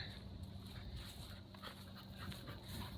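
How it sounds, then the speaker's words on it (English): A dog nearby whimpers and pants softly across a few seconds, faint against steady outdoor background noise at a sporting oval. "Oh, another dog over there."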